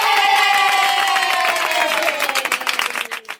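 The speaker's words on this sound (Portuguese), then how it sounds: "uma salva de palmas para a Clarinha." An audience claps and cheers in a short, loud burst of applause. The sound fades and breaks into scattered claps within about three seconds.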